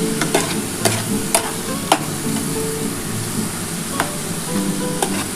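A radish-leaf paturi mixture is stirred and sizzled in a pan, with a steady frying hiss and periodic sharp scrapes and clicks of the spatula against the pan, close and without talk.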